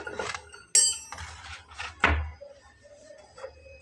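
Metal kitchenware clanks as a frying pan is set onto a stove burner, with two sharp clanging impacts among softer clinks and scrapes, close and fairly quiet.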